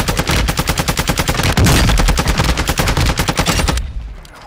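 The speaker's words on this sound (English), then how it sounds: "there's a bunch of shots below me" Rapid automatic gunfire in Call of Duty Warzone on Ashika Island, a dense string of evenly spaced loud shots for nearly four seconds before cutting off abruptly into quiet.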